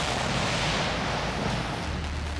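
A missile cruiser fires missiles during naval exercises, a sustained, roaring blast, loud and broad, rumbling continuously before easing slightly into a low drone.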